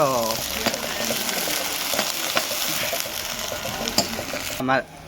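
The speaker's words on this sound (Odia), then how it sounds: "ମାଲିକେ ପଡ଼ିଲା ପିଆଜ। ହାଲକା ହାଲକା କଟର କଟର ଭାଜ।" Sliced onions fry in lightly oiled pan for a potato and soybean curry, a steady close sizzle with stirring scrapes throughout, and a brief voice at the start and end.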